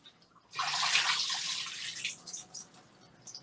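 Running tap water pours steadily into a sink while raw chicken is washed for a baked stew, a loud broadband rush that starts abruptly after half a second, holds, then eases to a softer trickle near the end; no talking.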